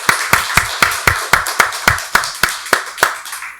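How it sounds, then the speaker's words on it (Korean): A church congregation claps together at a Sunday worship service: about a dozen loud, evenly spaced claps in a steady unison rhythm, with no talking. "박수로 하나님께 영광 돌리겠습니다."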